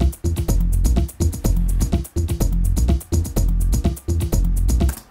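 A basic Ableton Live mix of two beat channels and a bass line plays a punchy, steady groove, with heavy low-end kicks and bass pulsing in a regular rhythm and crisp percussion on top, without any talk.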